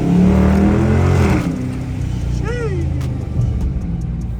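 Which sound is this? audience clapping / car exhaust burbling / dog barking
car exhaust burbling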